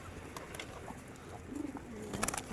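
Soft, low homing pigeon coos sound faintly beside some light shuffling and scattered small taps.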